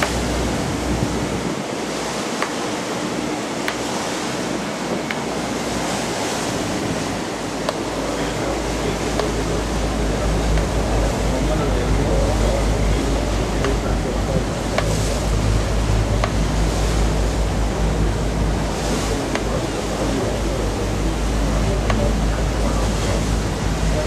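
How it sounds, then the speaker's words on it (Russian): Mediterranean Sea waves wash steadily onto the shore at Comino, Malta, a continuous loud surf roar mixed with gusty wind buffeting the microphone, with no voices. "это вот Средиземное море"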